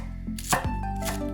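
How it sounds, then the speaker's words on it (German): A kitchen knife roughly chops spring onion on a board, a few quick close cuts and thuds standing alone with no talk. "Lauchzwiebel grob schneiden."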